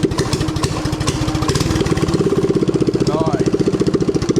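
Small engine on a mini drift trike being cranked over and fired up, a loud close rapid chugging pulse that steadies into a running putter, with a voice briefly heard over it.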